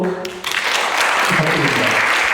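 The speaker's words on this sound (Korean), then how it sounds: "큰 박수로" An audience at a university presidential candidate forum at Daegu National University of Education breaks into dense, loud applause that swells quickly and holds steady, with a voice briefly over it at the start.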